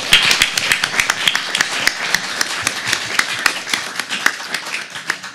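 Applause at the close of a boxing talk, a fairly small crowd clapping in sharp, distinct claps that carry steadily for several seconds.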